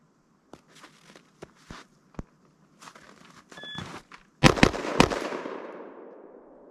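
A shot timer beep followed by a few scattered sharp pops, then a rapid burst of three loud pistol shots with ringing decay, fired with a 3.5-pound two-stage Rise Armament trigger.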